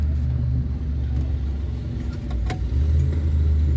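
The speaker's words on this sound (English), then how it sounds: "They're running a dyno next door, so it's really loud." A loud, steady low engine rumble drones throughout from a car running on a dynamometer nearby at a car show, held at high load, with no talking.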